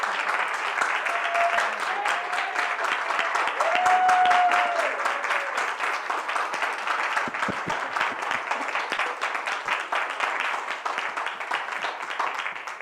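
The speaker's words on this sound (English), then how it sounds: "Would you all give her a round of applause?" A congregation at a Sunday service claps together in a long, sustained round of applause, full and even throughout, with a few brief voices or cheers rising briefly near the start.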